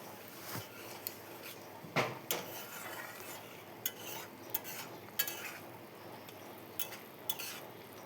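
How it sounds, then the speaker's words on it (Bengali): Soya mixture stirred in a pot over heat, a spoon scraping and knocking against the metal in irregular bursts with a steady low sizzle underneath, close and fairly quiet. "যতক্ষণ না মিশ্রণটি জাল না হচ্ছে ততক্ষণ আমি একটু নাড়তে থাকবো, যেন নিচে দিয়ে না লেগে যায়"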